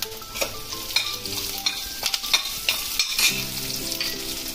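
Mustard seeds, curry leaves and cumin hit hot oil for a spiced tempering, giving a close, busy crackle and sizzle with sharp pops and stirring clicks. A faint tonal hum runs underneath.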